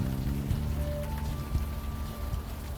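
Rain in the video game Unavowed: a steady, dense patter of rainfall forming a continuous wash, with faint low tones of background music beneath it.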